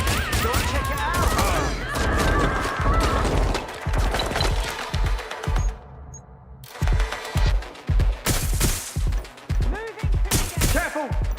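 Bursts of gunfire from a firefight in Watch Dogs: Legion ring out loud and close, with repeated sharp shots and rapid volleys broken by a brief lull, mixed with game chatter and impacts.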